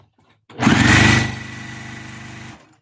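A sewing machine runs a short burst of back stitching, starting with a loud whirring rush that settles into a steady motor hum for about two seconds before stopping.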